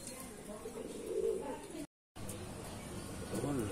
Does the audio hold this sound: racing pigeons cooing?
yes